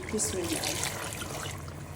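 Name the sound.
water poured into pan of fried tinda (round gourd)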